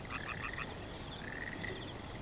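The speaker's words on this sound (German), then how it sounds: "Ob in diesem Weiher Frösche sind?" Frogs croak in a pond in short pulsed trills, several calls overlapping at a moderate distance over a steady hiss of night ambience.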